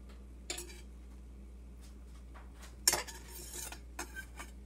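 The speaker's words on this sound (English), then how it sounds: "Now with a knife, butter knife, you just fix the edges." A butter knife scraping and tapping against a pan while tidying the edges of a tapioca-flour pancake, a few sparse close metallic clicks and scrapes over a low steady hum, with no talking.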